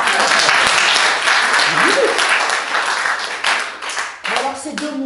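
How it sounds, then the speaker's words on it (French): An audience at a talk on employment and disability applauds, a dense, loud wash of clapping that fades toward the end, with a voice briefly rising over it. "applaudissements."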